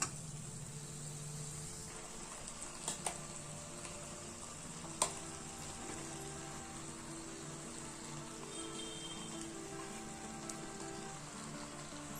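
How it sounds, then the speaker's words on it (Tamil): Chicken, egg and rice are stir-fried together in a pan for chicken fried rice, giving a faint, steady sizzle with occasional sharp clinks of a utensil against the pan and no voices. "இப்போ இதுல நம்ம பொரிச்சு வச்ச சிக்கன், எக்கு, ரைஸ் எல்லாம் சேர்த்து மிக்ஸ் பண்ணலாம்."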